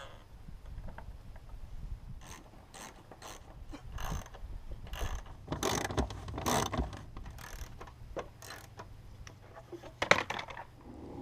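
A ratchet wrench backs out four 10mm bolts holding a rear bumper, its clicking pawl heard in uneven bursts with metallic clinks of bolts and tools, close and moderately loud with no talking.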